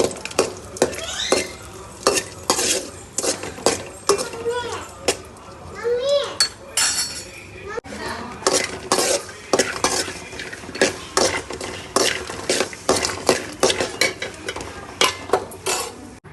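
Grated coconut roasting in a pan for rava laddu, with a spoon scraping and clinking against the metal in a quick, busy rhythm throughout, loud and close, with a few brief voice-like sounds in the background.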